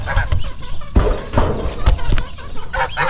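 Geese and other farm fowl clucking and honking while being fed, several birds calling close by in bursts, with a few sharp thumps over a steady background.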